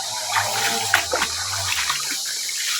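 Water gushes hard from a tap in a steady, loud, close rush, with a few faint splashes on top.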